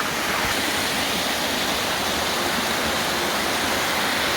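Caboolture River Falls in Queensland pours in a constant, loud, dense roar of falling water, with no breaks or voices.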